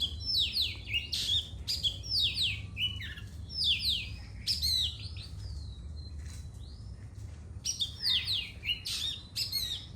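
Several small birds chirp and trill in a fruit garden in the evening, with quick clustered bursts of high tweets repeating through the clip against a quiet low background hum.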